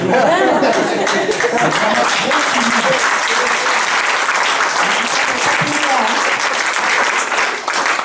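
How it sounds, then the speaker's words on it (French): Loud applause sweeps through a church congregation during a Sunday sermon, dense and sustained, with faint chatter and a few voices mixed in under the clapping. "Ah ben c'est timide, hein, les acclamations."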